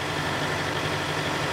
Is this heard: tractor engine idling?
yes